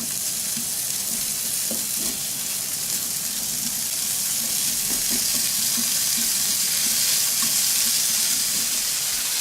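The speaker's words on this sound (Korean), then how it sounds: "삼겹살을 이렇게 굽도록 하겠습니다" Fatty pork belly searing in a pan at home over gentle heat, a steady loud hiss and crackle of sizzling fat with small spitting pops throughout.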